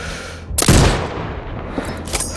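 A single sniper rifle shot fires in the game Sniper: Ghost Warrior Contracts 2, a sharp loud crack with a booming tail that rolls away, followed by a smaller distant thump.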